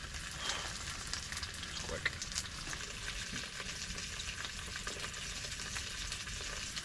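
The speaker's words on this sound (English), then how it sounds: "I think the burger's almost done now, so we're going to put the roll on the top just to toast it" A burger fries in a pan inside a hot tent during a winter snowstorm, with a roll set on top to toast; a steady, close sizzle and crackle runs throughout.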